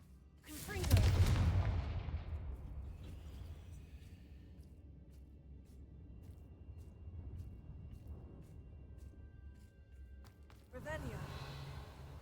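A Confringo blasting spell cast in Hogwarts Legacy bursts loudly near the start, a single booming blast followed by a long fading rumble and scattered ambient game noise, with another burst near the end.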